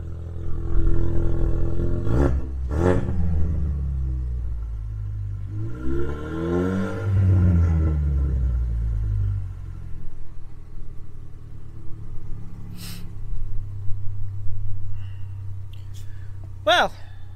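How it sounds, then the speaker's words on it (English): A 2015-or-later Ford Mustang EcoBoost engine with a throttle body spacer fitted idles, then its throttle is blipped a few times, giving rising and falling revs that swell around the middle before settling back to a steady idle. "let's give a little blip of the throttle, see what happens"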